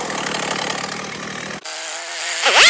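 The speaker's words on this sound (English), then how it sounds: "I love chainsaws." A chainsaw cuts a tree trunk into pieces, its engine droning loud and close, then shifting pitch as the cut ends and the throttle changes.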